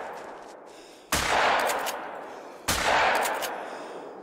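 Two loud video game shotgun blasts, about a second and a half apart, each a sharp boom followed by a long decaying roar, with no talking.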